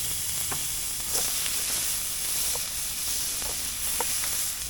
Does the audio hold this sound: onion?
yes